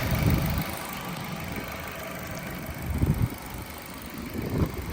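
An automatic 2017 Nissan Note idles with a steady low engine rumble. A few slightly louder surges rise and fall within it, and no one speaks.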